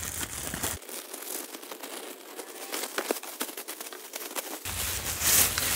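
A plastic sheet is cut and handled for a Halloween wolf-skull project, giving close, quiet crinkling and crackling with a few sharper rustles, heard alone without talk.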